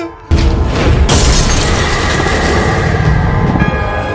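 A sudden loud crash of glass breaking, followed by a sustained harsh rushing noise of gas escaping from the broken glass over a low rumble.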